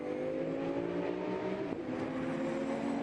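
Callaway Competition Corvette GT3 race cars at the Zolder circuit in a 2010 FIA GT3 race, with a steady, droning engine note at sustained high revs and a slight dip midway, continuous and fairly close.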